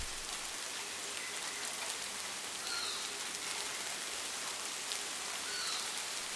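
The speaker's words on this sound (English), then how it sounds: "The rain triggers their return." Steady rain patters continuously, a soft even hiss of drops with a few faint bird calls in the distance.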